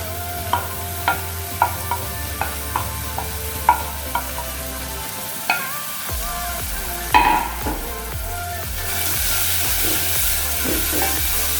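Carrots cook in hot oil in a pan with a soft sizzle, broken by a series of sharp utensil clicks and scrapes from stirring. The frying grows louder and more continuous near the end.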